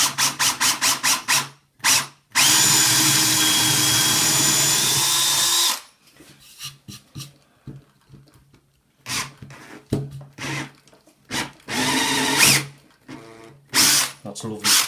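Power drill boring a 10 mm hole in wood while building a fishing line dispenser: quick trigger pulses, then a sustained loud whirring bore, then more short bursts and a second run, with someone talking in the gaps.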